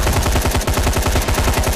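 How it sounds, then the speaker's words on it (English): Rapid automatic gunfire in the zombie video game Dying Light rattles out as a loud, dense burst of repeated shots, continuous across the short stretch with no voices. "Somebody's shooting."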